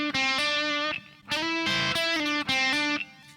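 Electric guitar with distortion and effects plays the fast solo lick from the album version, a quick run of sustained, bending notes in three phrases with short gaps, loud and alone.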